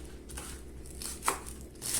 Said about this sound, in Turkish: Hemen yeşil soğanlarımızı doğrayalım.